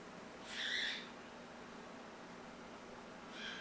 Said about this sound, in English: if them birds don't stop, I'm fixing to stop this video until they calm down